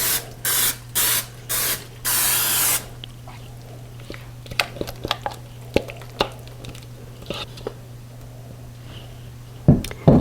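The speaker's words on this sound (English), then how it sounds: "next I'm going to get a casserole dish down and grease it" Cooking spray greasing a casserole dish: five quick hissing bursts up front over a steady kitchen hum, followed by soft clinks and taps of handling the dish.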